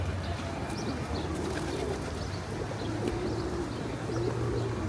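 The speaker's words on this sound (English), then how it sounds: "Damn, pigeons, they're everywhere." Pigeons cooing on a street in Sofia, Bulgaria, low soft coos repeating steadily under a constant hum of city ambience, with occasional faint chirps from other birds.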